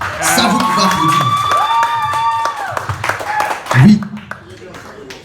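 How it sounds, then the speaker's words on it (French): Audience applause and cheering at a stand-up comedy show, a crowd clapping and whooping loudly for a few seconds before dying down, with the comedian's voice over and after it. "Ça, vous pouvez applaudir."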